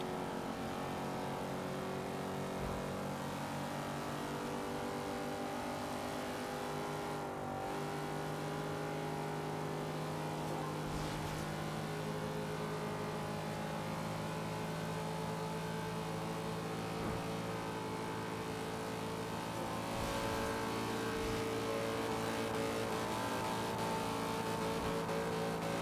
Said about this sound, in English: Gee, sounds like I'm pushing this car to the limit.